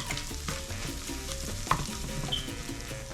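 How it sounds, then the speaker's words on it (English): Salt cod and eggs stirred in a frying pan for Spanish bacalao con huevos, a steady close scraping and stirring over a soft continuous sizzle, with a couple of sharper utensil clicks and no talking. "Stir to mix everything together, and when you are doing this, the eggs will finish cooking through."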